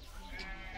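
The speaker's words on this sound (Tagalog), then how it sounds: "May kambing ah." A goat at a zoo in Andong, South Korea, gives one short, wavering bleat, close and moderately loud.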